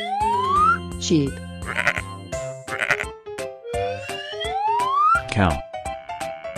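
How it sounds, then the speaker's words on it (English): Cartoon sheep bleats rise over a bouncy children's tune with swooping whistle-like tones, the bleat loud and close among the music. "Sheep."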